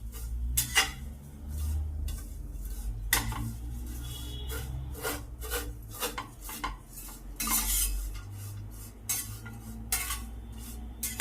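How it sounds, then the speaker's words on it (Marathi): Vermicelli is roasted in ghee in a pan for kheer, with a spoon scraping and clattering against the metal in irregular bursts over a low, steady hum. "मंद आचेवर मस्त परतून घ्यायच्या"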